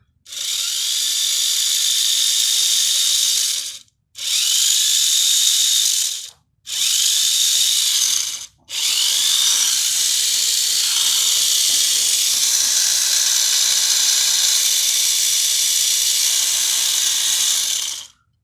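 An Auldey Magnum Saber mini 4WD toy car's small electric motor whines loudly and close in several bursts, cutting out three times with short gaps before a long continuous run.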